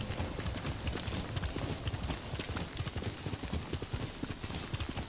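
A horse gallops in the video game Ghost of Tsushima, its hooves pounding in a fast, continuous rhythm over a dense, noisy background that sounds like rain.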